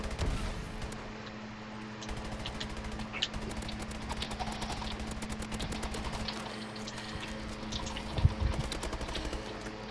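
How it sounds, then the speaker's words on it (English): Rapid gunfire in an Advanced Warfare online match, aimed at an enemy warbird: dense continuous rattling bursts with a few louder cracks, set against constant game background noise and with no voices. "I'm gonna shoot this warbird down."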